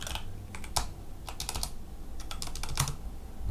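Typing on a computer keyboard while entering a local server address, quick irregular clicks in short clusters, close and fairly quiet, with no voices.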